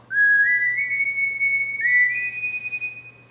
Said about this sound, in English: even in PlayStation form I recognize that whistle